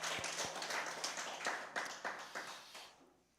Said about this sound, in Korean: 할렐루야 우리 박수로 하나님께 영광 돌리겠습니다